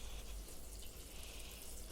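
Water is poured into a bowl to test sugar syrup for making ariselu, a soft continuous trickle and gush lasting about two seconds, fairly faint and close, with no talking.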